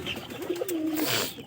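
Two pairs of pigeons kept in a cage; one faint, low, drawn-out coo rises over soft background noise.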